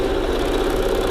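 Electric sewing machine running steadily while stitching elastic shut for a scrunchie, a continuous close motor hum with no talk over it.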